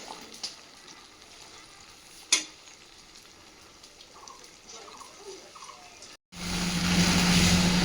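Banana flower with prawns, potatoes and spices is stir-fried in a pan without water, giving a soft steady sizzle with an occasional scrape of the spoon, before a sudden much louder, harsher burst takes over near the end.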